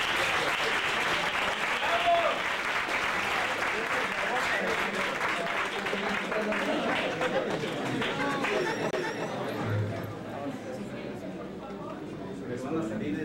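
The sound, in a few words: audience applause for debate representatives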